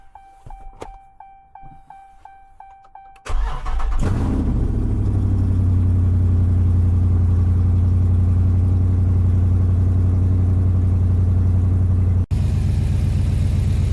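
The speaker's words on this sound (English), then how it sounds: "finna turn the car on and see what happens" A 600hp Dodge Scat Pack starts up after a few faint beeps, then settles into a loud, deep, steady rumbling idle that runs on close by with a brief break near the end.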